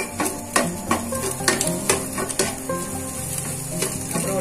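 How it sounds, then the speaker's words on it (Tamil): Finely chopped carrot hits a hot pan for egg fried rice, giving a loud, steady sizzle with repeated stirring clatters and scrapes of the utensil, close and with no talking. "ஃபர்ஸ்ட் கேரட், ஒரு கேரட் கட் பண்ணி வச்சிருக்கேன் பொடியா"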